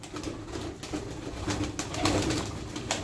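Pigeons coo softly among a busy outdoor hum, with scattered wingbeats and bird calls at moderate distance and no talk.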